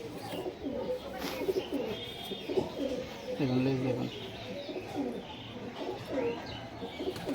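Punjabi Malbai pigeons brought from Punjab coo in soft repeated bursts close by, interleaved with someone talking over them.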